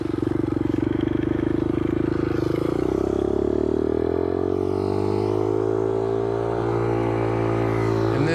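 2019 Kawasaki KLX 110 dirt bike engine running close by, a loud, steady buzzing drone whose pitch dips and then climbs slightly as it revs.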